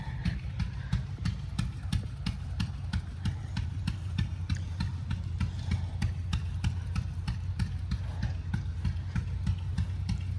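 Vintage John Deere tractors idle at an outdoor fall tractor show, a steady low chugging with an even rhythmic putt-putt beat, moderately close and unbroken.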